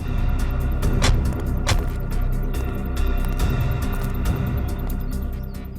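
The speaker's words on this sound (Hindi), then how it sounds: "एसीपी साहब की गाड़ी।" The ACP's car arrives as a steady engine rumble with road noise throughout, fairly loud and continuous, with no voices over it.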